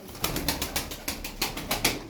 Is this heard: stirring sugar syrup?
no